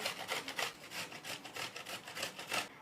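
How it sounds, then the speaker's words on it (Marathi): Indian gooseberries (amla) rubbed against a kitchen grater into long shreds, giving a steady run of quick, close scraping strokes with a soft rasping texture and no talk. "अशा पद्धतीने हे आवळे किसून घ्यायचे"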